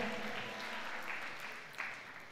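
A church congregation claps in praise during a worship message, a continuous, even wash of many hands heard at moderate volume with faint voices underneath.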